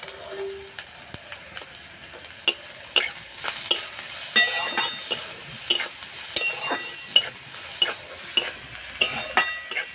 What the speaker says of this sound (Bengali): এইভাবে ভেজে নেব, জল দেব না।